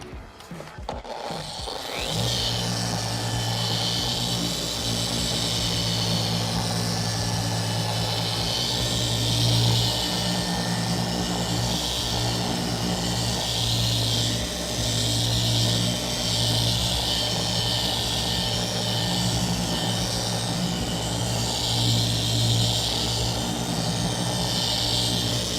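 A paint correction polishing machine runs steadily on car paint to remove scratches, giving a constant close mechanical whir with a low hum that holds level throughout after a brief handling noise at the start.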